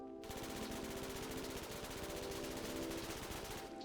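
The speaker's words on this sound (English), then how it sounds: "Now we have the P90, fan favorite of this game." A P90 submachine gun in the Roblox game Jailbird Remastered fires one long, continuous automatic burst of rapid, evenly spaced shots, loud and close, running for nearly four seconds with no other sound.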